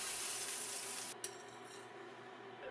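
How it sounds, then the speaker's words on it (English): Portobello mushrooms fry in a pan with a steady bright hiss and sizzle, a brief clink of a utensil partway, then quieter sizzling continues. "pan fry for about 5 minutes until lightly golden brown"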